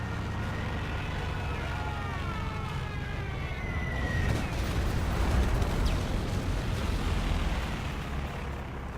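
Stuka dive bomber attack in the Company of Heroes 2 game: a falling siren-like whine descends over a dense rumble of battle noise, then heavy explosions swell into a loud, sustained blast-filled roar.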